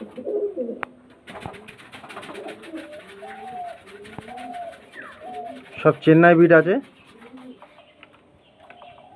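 Pigeons at a pigeon sale coo in a series of low, rolling phrases, with someone talking over them and a louder burst of sound near the middle.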